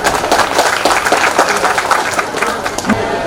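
Audience applause at a Guru Purnima teachers' felicitation event, steady dense clapping and crowd noise filling the whole stretch, fairly loud and continuous.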